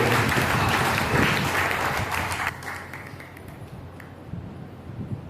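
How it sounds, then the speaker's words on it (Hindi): Church congregation at a Sunday service clapping together in a hall, dense steady applause for the first half before thinning into scattered claps and quieter room noise. "आइए मिलकर अपने हमारे माँ लोग के लिए हम ताली बजा के धन्यवाद दें।"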